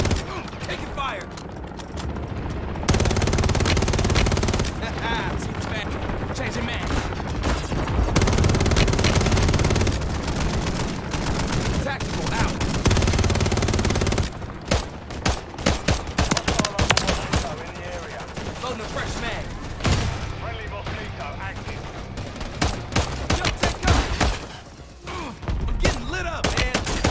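Sustained bursts of video game gunfire, dense rapid shots with thumps and mechanical clatter, loud and close through most of the span with brief lulls, voices heard faintly in the mix.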